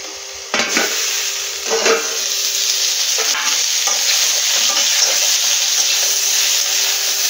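Cauliflower and potato pieces sizzle in hot oil in a pan, a dense continuous crackle close to the mic. A few scraping stirs break in early, and no one speaks.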